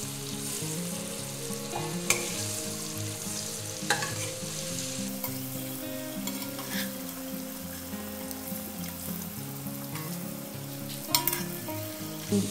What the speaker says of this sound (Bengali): ডিমটা একটু ফেটে গেছে, হালকা করে এটা ভেজে নেব।